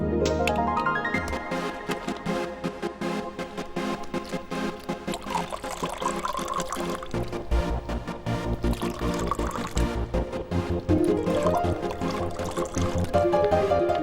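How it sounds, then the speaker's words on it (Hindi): A steady stream of water pours into a drinking glass for a long stretch, continuous and close, with a rising fill tone, set against a dense film soundtrack in a home scene. "पानी तो डालो।"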